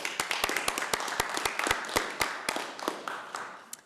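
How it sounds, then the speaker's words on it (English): A small room of people applauding veterans at a city council meeting, giving a brief scattered round of sharp hand claps, fairly close and fading out after a few seconds. "Let's give them a round of applause."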